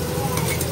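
Eggplant fries in a pan with a loud, steady sizzle of hot oil, close and continuous, with no breaks.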